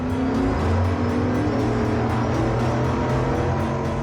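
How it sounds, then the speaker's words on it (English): The Skater 388 racing powerboat's engine roars at full speed on a 3/4-mile course, a loud, steady, droning howl with a sustained tone and rushing wind throughout. "the engine roared, the wind rushed by, and the speed kept climbing higher and higher"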